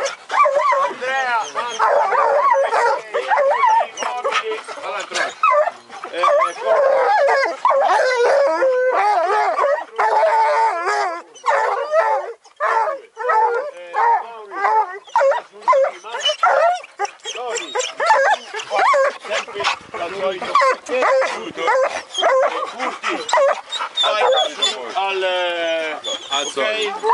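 Pack of scent hounds used for wild boar hunting, at an Italian boar-hound championship, baying, howling and barking continuously and loudly, their overlapping voices filling the whole stretch, with people's voices mixed in.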